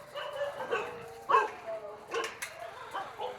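Dogs barking and yipping in short, irregular bursts at moderate distance, with a few whimpers mixed in and no talk over them.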